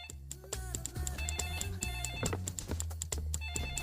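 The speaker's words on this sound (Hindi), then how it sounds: "फोन कहाँ से बजा रहे?" An electronic melodic ringtone plays continuously, its bright repeating tones chiming over a busy synthetic backing, fairly close and clear.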